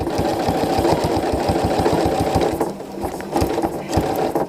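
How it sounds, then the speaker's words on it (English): Domestic sewing machine stitching a quilt along a ruler template, rapid even needle pulses running close and loud, slowing and stuttering briefly toward the end. "now the machine will stitch as you move your ruler"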